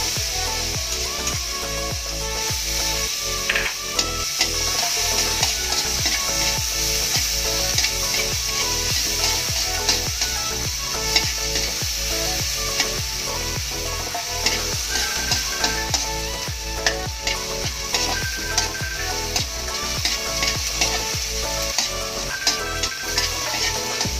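Onions sautéing in a pan for pork empanada filling, a loud continuous sizzle with frequent clicks and scrapes of the spatula throughout, no talking.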